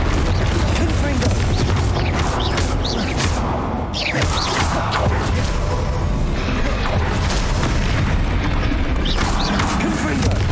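Confringo spell blasts in the Hogwarts Legacy video game burst out as dense, loud explosive crackles and booms, layered with whooshes and mechanical clatter over a constant noisy game soundtrack.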